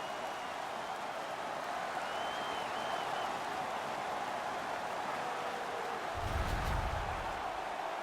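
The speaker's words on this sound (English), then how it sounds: "The crowd is so pumped right now." An arena crowd cheers after a hockey fight in the NHL 19 video game, a steady dense roar of noise throughout with a louder swell of cheering and low rumble toward the end.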